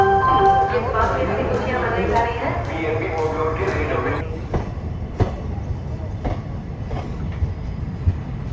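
A train pulls out of Jamnagar station, a steady low rumble with rhythmic clicks of wheels over rail joints, and a long tonal horn-like drone early on fading as the run continues.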